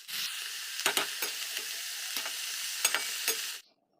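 Shrimp sizzles in hot oil with onion, alongside ridge gourd, as a steady loud frying hiss broken by a few sharp utensil scrapes and clicks, then stops abruptly near the end.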